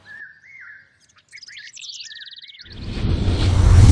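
Birds chirp and warble in quick repeated phrases, then a loud rushing whoosh swells up and drowns them out.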